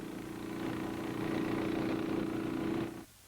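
An engine drives a fan that forces chemical into a sealed war tunnel, a steady mid-pitched drone that swells slightly and then cuts off near the end.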